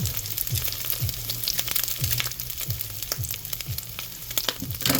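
Udon noodles frying in a hot pan for a yaki udon stir fry, a steady oily sizzle with repeated rhythmic scraping and stirring strokes close by.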